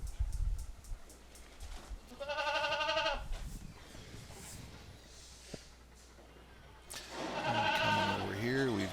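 Goats in a barn, a herd of younger does, give several loud nearby bleats, one early and a longer pair near the end, over a person talking quietly and soft rustling.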